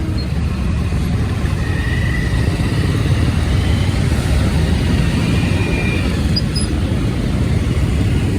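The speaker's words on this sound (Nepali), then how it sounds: "बाइकमा जाँदैछु।" A motorcycle being ridden along a road toward Chandragiri hills, its engine and wind roar forming a loud, steady, unbroken drone with no talking.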